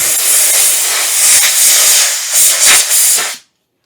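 A loud, continuous aerosol hiss close by, wavering slightly in strength before cutting off abruptly.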